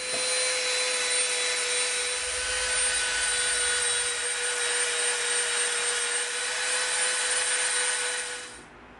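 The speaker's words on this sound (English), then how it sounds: "And now we're gonna shape this with our Dremel" Dremel rotary tool grinding and shaping EVA foam for stormtrooper binoculars, a steady high-pitched whine with a constant tone running unbroken for about eight seconds before cutting off, loud and close with no talk.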